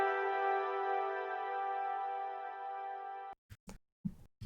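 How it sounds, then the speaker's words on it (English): A bright, sustained harp-like tone rings steadily for a few seconds, then cuts off abruptly, followed by a few short, separate bursts. "I have this harp. This is part of the harp from the Forest lead,"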